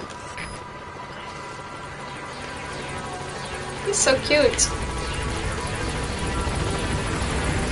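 A helicopter in the video game Metal Gear Solid V hums and whirs steadily, its rotor drone swelling slightly louder partway through, while a person talks over it.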